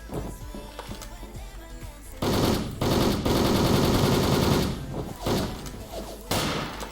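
Sustained automatic gunfire spraying in the online shooter WolfTeam, loud rapid bursts in several long stretches separated by short gaps, with quieter scattered shots before them.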